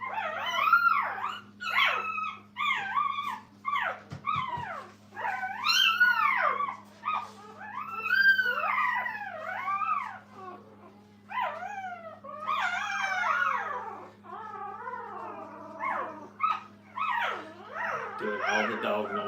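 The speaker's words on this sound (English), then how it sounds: "all the dog noises," Puppies in a kennel whine, yip and fuss in a continuous string of high, wavering cries, close by and fairly soft over a steady low hum.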